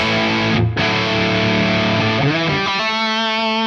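An electric guitar played through an IK Multimedia Tonex Mesa/Boogie amp model gives sustained, distorted chords that ring loud and thick, with a brief break and then a new held chord.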